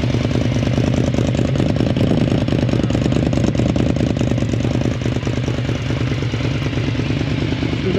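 Motorcycle engine with its exhaust running, a close, steady idle with a rough rhythmic chugging pulse and metallic clatter that dips slightly in level partway through, with no talk.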